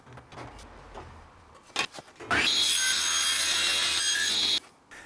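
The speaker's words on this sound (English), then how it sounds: "I cut a rebate on the table saw." Table saw cutting a rebate in wood, with faint workshop shuffling and a few knocks before the blade bites in with a loud, steady whining cut lasting about two seconds, then stops.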